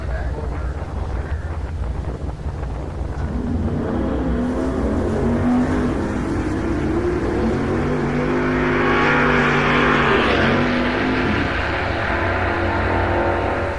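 A Camaro and a Coronet launch down the TriState Raceway drag strip, loud engines climbing in pitch through the run, with wind buffeting the microphone.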